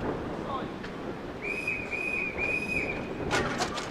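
A railway conductor's single sustained shrill trill whistle blast sounds over windy outdoor rumble on a narrow-gauge railway, followed by a few brief sharp chirps near the end.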